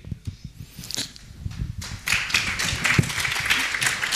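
A conference audience at a talk on shaping the future starts with a few scattered claps that build into fuller applause after about two seconds.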